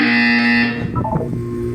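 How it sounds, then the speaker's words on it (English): A loud, flat electronic buzzer from the Portal 2 video game sounds alone for under a second, then cuts off, followed by faint rumbling game noise. "When you hear the buzzer, look up at the ceiling."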